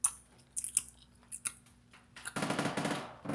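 Bubblegum bubbles pop in an empty room, a few sharp snapping pops spaced out early, then a denser burst of crackling, chewy snaps near the end, close and fairly loud.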